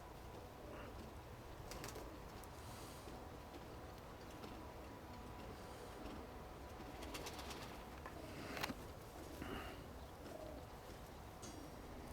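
Pigeons coo faintly at a dovecote, a young mated pair among them, with soft clicking and ticking sounds over steady outdoor background noise.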